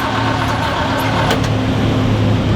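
A 1978 Jeep engine is spun over, giving a loud, steady mechanical drone with a low throbbing hum, heard close by and uninterrupted for the whole stretch.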